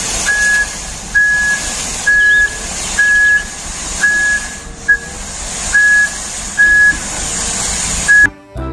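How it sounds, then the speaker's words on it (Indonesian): A toy sand dump truck gives a series of about eight evenly spaced electronic beeps over a steady background hum, ending with a brief clatter. "Wow, ada mobil truk tronton pasir."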